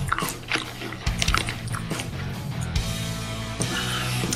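Crunchy chewing of a mouthful of King Vitamin cereal, close to the mouth, with steady rhythmic crunches and bites and no talk.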